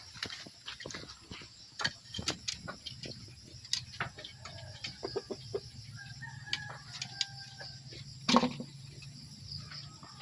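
Fighting roosters kept outdoors crow and cluck in scattered bursts, with faint ticking and small sounds between the calls and one loud sharp call near the end.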